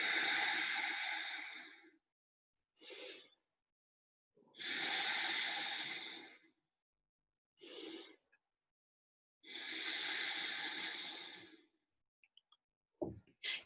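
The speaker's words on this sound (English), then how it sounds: "start to draw some deeper, fuller breaths down into your abdomen" Slow, deep abdominal breaths during a guided meditation, with long audible inhalations and exhalations alternating in a calm, close, regular rhythm, a few soft clicks at the end.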